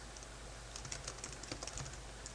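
Typing on a computer keyboard while setting up a router from the command line, a run of faint, quick key clicks over steady background hiss, with no one speaking.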